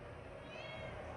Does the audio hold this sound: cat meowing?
yes